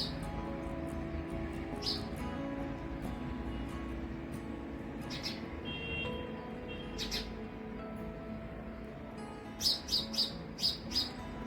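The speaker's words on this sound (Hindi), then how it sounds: "ये चिड़िया रानी ने आकर के गाना शुरू किया, उसी से मेरी नींद खुली।" A bird sings near a balcony in the morning, with scattered chirps at first and then a quick run of bright repeated notes near the end, over a steady low background hum.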